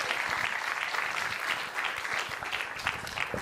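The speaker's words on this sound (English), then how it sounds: "Let's give a round of applause for our guests." Audience applause for guests at a wine tasting and conversation event: a steady, dense round of clapping from a crowd that holds evenly for the whole stretch.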